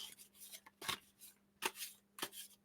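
Quiet close shuffling of a deck of astrology reading cards, a few soft riffling and slapping bursts spaced about half a second apart, with a faint steady hum underneath.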